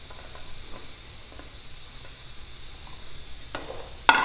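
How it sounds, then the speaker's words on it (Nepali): Garlic sizzles in hot oil in a pan while a pickle is being made, a soft, steady frying hiss with faint crackles and a sharper clatter near the end. "अब चाहिँ म अचार बनाउँदै छु यसमा सुरुमा मैले लसुन हाले"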